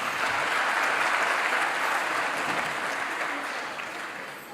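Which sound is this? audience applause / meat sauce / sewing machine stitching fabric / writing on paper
audience applause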